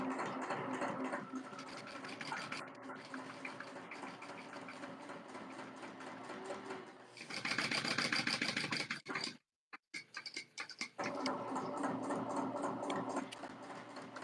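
A sewing machine stitches a fabric tote bag, its steady, close mechanical whir running continuously with a brief stop and restart near the end; no talking over it.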